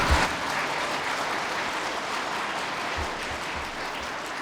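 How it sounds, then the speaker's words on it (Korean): Audience applause in a lecture hall during a talk on agricultural policy, a steady, moderately distant burst of many hands clapping that continues evenly for several seconds. "고개만 이래 하지 말고 박수를 한번 쳐봐."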